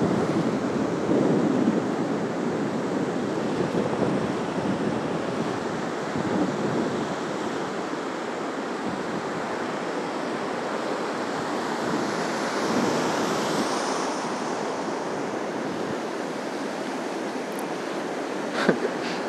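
Stormy sea surf pounds Anapa's central beach after strong wind and rain, a continuous loud roar of crashing waves mixed with gusty wind buffeting the microphone.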